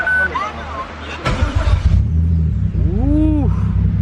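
A freshly rebuilt car engine cranks and fires for the first time, then settles into a loud, steady, rumbling idle close by, with a person's brief exclamation and voices over it.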